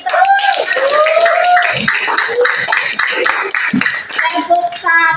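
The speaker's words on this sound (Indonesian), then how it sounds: "Kita berikan aplaus untuk kita." A classroom of children claps together during an Indonesian school lesson on food testing, with short bright bursts of clapping mixed under young voices chanting and talking almost the whole way through.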